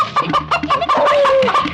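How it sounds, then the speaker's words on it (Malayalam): Chickens clucking in a Malayalam movie scene, a rapid series of close, loud clucks and squawks over under two seconds, with no talk. "എന്റെ ഈശോയെ, എന്നാ വലിപ്പമായി കോഴിക്കൊക്കെ."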